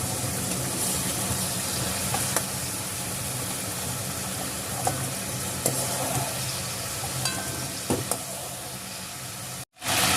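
Shrimp and potatoes simmer in a pan of red curry, giving a steady close sizzle and bubbling that runs throughout, with occasional soft clicks and a brief drop near the end.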